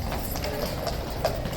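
Horses of the Horse Guards clip-clop on hard ground, with a steady run of distinct hoofbeats at close range and faint crowd noise underneath.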